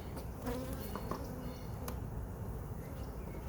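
Honeybees buzz over a beehive frame during the installation of nucs: a steady, close, dense hum with no talking.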